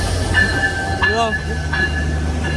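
A luxury passenger train in Bangladesh rolls in close by, a steady loud rumble of cars with faint metallic ringing tones on top, while a voice speaks briefly over the noise.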